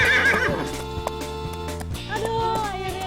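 A native Sumba horse gives a loud, close, shrill whinny that falls away, followed by low snorting and the thud of hooves shifting on the ground.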